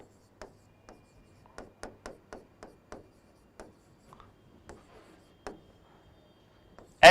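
Marker or chalk writing on a board in a physics class: a string of short, crisp taps and strokes, irregular and fairly close, in an otherwise quiet room.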